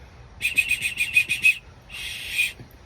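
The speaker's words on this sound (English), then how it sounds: "Have a whistle." A survival whistle from a bug out bag blown in a quick series of about eight shrill, piercing toots, then one longer sustained blast, loud and close with no talking.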